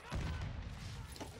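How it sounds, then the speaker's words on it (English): A decoy grenade in the video game Modern Warfare 2 fakes a burst of gunfire: a loud, booming cluster of shots and thumps that quickly fades into a lingering rumble. "Fucking decoy grenade."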